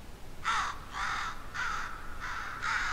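Crow cawing in the video game Thinking With Time Machine: five evenly spaced harsh caws, each about a quarter second long, loud and close, with no talk over them.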